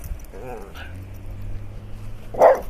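A dog on a walk gives a short, loud bark near the end, spotting another dog across the street, after a brief whimpering sound earlier, with someone talking over low outdoor background noise.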